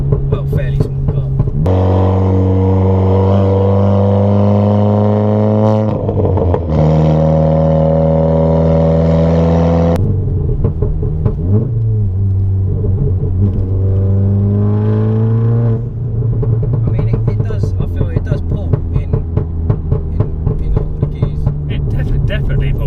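A 421 bhp Volkswagen Golf R engine revs hard while accelerating, a loud, rising drone with gear changes in between. People talk over it at times.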